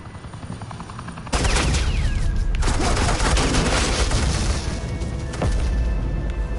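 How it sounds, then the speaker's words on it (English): Suppressing gunfire in a Batman Telltale video game: a loud, dense burst of rapid shots with booming impacts starts suddenly and keeps going, with a sharp crack near the end over a rumbling background. "Suppressing fire."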